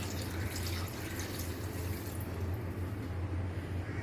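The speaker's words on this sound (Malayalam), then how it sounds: "എന്നിട്ട് നമുക്ക് ആവശ്യത്തിനുള്ള വെള്ളം ഒഴിച്ചു കൊടുക്കാം" Water is poured steadily into a pan of karimeen chilli curry with tamarind water, a continuous close trickling splash over a low background hum.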